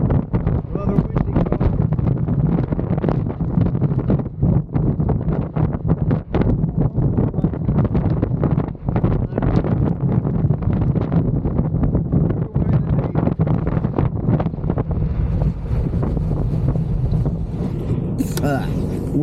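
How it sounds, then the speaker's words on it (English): Strong wind gusts near the Mohawk lighthouse buffet the microphone in a continuous loud roar for the whole stretch, with a voice talking underneath. "wind is blowing the signs and the grass and everything's moving."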